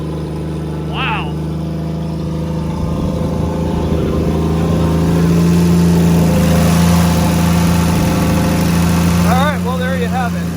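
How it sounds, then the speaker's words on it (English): A Plymouth Valiant engine idles with its catalytic converter cut off, giving a loud, steady, droning exhaust rumble throughout, with people talking over it. "It sounds like an airplane because somebody cut the catalytic converter so the exhaust ends like there."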